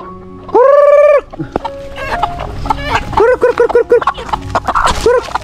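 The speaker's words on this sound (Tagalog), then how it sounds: "Magpakaon sa usa ta og mga manok diri sa ato ang balay." Chickens nearby being fed: one loud drawn-out squawk, then a flurry of quick clucks and calls overlapping one another.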